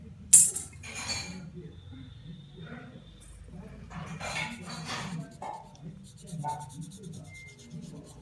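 A charcoal pencil scratches across paper in short, irregular strokes and bursts of rubbing, quiet and close, over a low steady background hum.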